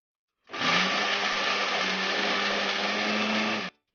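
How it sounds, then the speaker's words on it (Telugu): A mixer grinder whirs steadily for about three seconds, coarsely grinding raw mango pieces, coconut and salt into chutney; the motor starts and stops abruptly, loud and close, with no talking. "కొంచెం కచ్చాపచ్చిగా మిక్సీ పట్టుకోవాలి"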